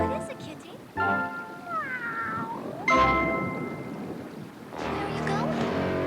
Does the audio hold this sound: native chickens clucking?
no